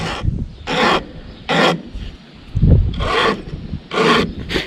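Hand file sharpening chainsaw teeth, loud close rasping strokes in an uneven rhythm of about seven pushes with short pauses between, no speech.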